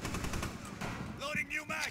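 Rapid automatic gunfire from a weapon in the video game Rainbow Six Siege, a dense stuttering burst that fills the whole moment at close range, with in-game sound layered over it.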